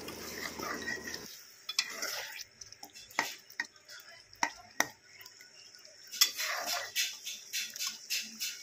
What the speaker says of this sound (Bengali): টমেটোগুলোকে এখন ভালো করে কষিয়ে নেব। একটুখানি জল দিয়ে মশলাটাকে আরও ভালো করে কষিয়ে নেব।